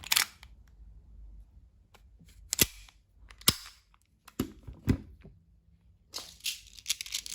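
A WE Hicapa T-rex BB pistol is test fired, giving several sharp, loud, separate cracks with short gaps between them. Clacks of slide and handling mix in, and a rapid burst of shots follows near the end.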